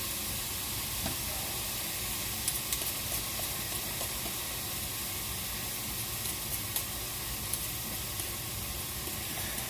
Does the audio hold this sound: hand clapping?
no